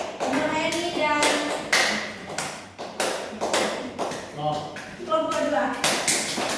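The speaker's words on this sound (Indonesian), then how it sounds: "Berikan aplaus untuk Nur Hayani dan" Elementary schoolchildren in a sixth-grade classroom clap for a classmate's group, a run of sharp, uneven hand claps and taps that comes in clusters, mixed with children's voices and brief tonal pings.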